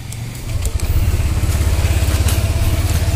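Honda Click 125i scooter engine catching after a push start and settling into a steady, close, throbbing idle, with a brief sputter at the start and no talking over it.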